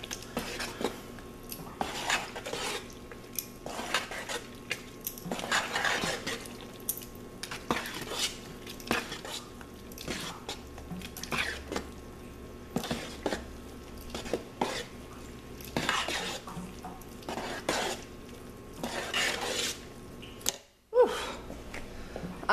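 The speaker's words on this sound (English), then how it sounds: "And now we gotta stir it in" A utensil stirs hot process soap in a pot, making repeated scraping and clinking strokes in an irregular rhythm over a low background hum. There is a brief silent gap near the end.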